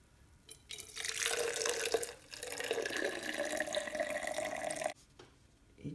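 Hot water pours continuously into a cup to make decaffeinated tea, a steady splashing stream lasting several seconds with a short break, then stopping abruptly.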